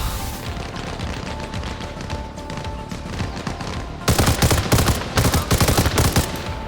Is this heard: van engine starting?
no